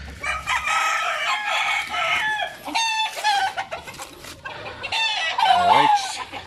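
Backyard pet chickens just after feeding, with hens clucking and roosters crowing nearby in overlapping bursts, loud and close with no talk.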